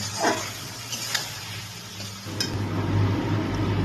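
A spice paste (masala) being fried and stirred in a pan, heard as a soft low sizzle that grows steadier and louder in the second half, with a few faint scraping strokes of the stirring utensil early on.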